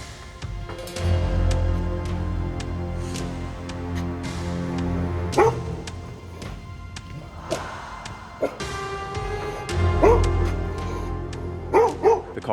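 Caucasian Shepherd dog barking in repeated short bursts, close and fairly loud, with several separate barks spread across the stretch over a low steady background rumble.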